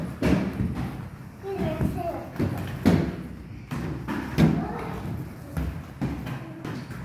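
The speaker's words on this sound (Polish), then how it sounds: "Maluchy jeżdżą po domu sobie na rolkach." Small children roller skating around inside a house: a continuous rolling rumble broken by repeated loud thuds and knocks as the wheels bump across the floor, with voices nearby.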